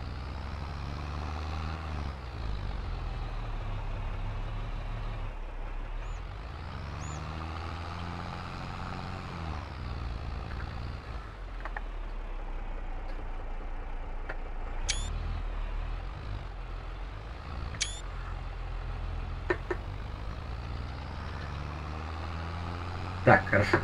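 A farm vehicle in the game Farming Simulator 22 crossing a field, a steady low engine drone with a few faint clanks, running on with someone speaking now and then.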